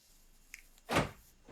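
A quiet click followed by a short, muffled mechanical thunk of a Honda's door locks engaging from a double-click of the key fob, close by and otherwise silent.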